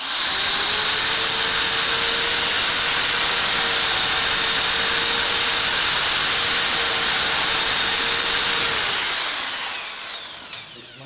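Power tool sanding and grinding holes during a DIY arcade cabinet build: a loud, steady whine with hiss runs for about nine seconds, then winds down and stops.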